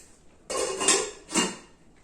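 A weighty lid is set down and closed onto a kadai from an Impex kitchen set, giving two close metallic clatters about a second apart, without any talk.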